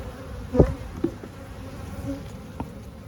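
Honeybees hum steadily through a spring hive inspection, a continuous low drone with a few brief louder knocks and bumps from handling the frames, no voices over it.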